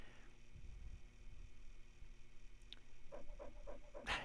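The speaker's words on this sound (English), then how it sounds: "You still hear the dog." A dog pants in the background, quiet and steady beneath a low hum, with a short run of rhythmic breathy pulses near the end.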